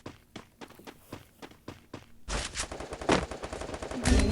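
Gunfire in the mobile battle-royale game Free Fire: a rapid string of sharp single shots, then a dense, louder burst of automatic fire that continues to the end, close and alone.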